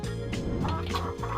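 A chicken gives a quick series of close, throaty clucks lasting about a second and a half, with a steady tonal background underneath.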